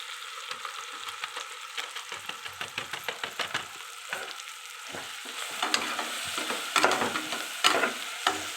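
Onion, tomato and veg pulao masala frying and being stirred in a pressure cooker, with a steady sizzle and repeated scraping strokes that grow louder toward the end, close by and with no talk.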